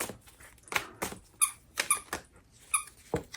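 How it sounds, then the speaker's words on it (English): A dog's squeaky toy gives a series of sharp, high, irregular squeaks close by, with soft pattering between them and no talking. "I forgot to put away the squeaky toys"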